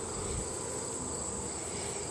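Honey bees hum around a storm-damaged hive during an inspection, a soft, continuous buzzing drone with no voices, steady and fairly faint.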